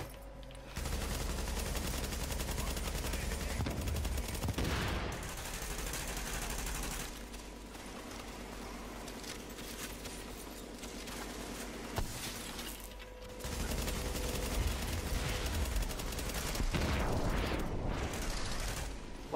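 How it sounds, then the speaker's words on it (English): Gunfire in the shooter game Tom Clancy's The Division, sustained and loud under a dense layer of game music and effects, with bursts continuing through most of the stretch. "Why is he shooting at me?"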